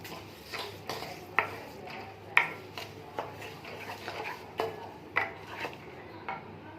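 Spoon stirring sugar into raw mango chutney in a pot, giving a series of irregular clinks and scrapes against the metal, moderately close, with no voices.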